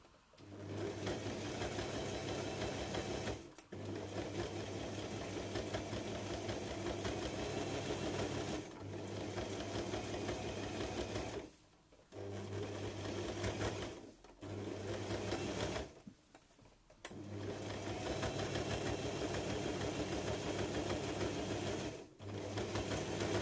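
A sewing machine runs in long, steady loud bursts while stitching a bralette armband, its even mechanical hum broken by several short pauses between seams.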